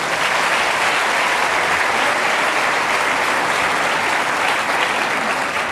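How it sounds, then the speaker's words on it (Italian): Dense, steady applause from a large television awards-show audience fills the hall without a break, loud and close, with no speech over it. "Caro Castellitto, ti sei perduto, direi, gli applausi nella discesa, ma te li riacquisti subito arrivando qui"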